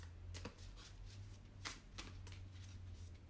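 A deck of cards being shuffled up close, with a few sharp riffling bursts over a steady low hum.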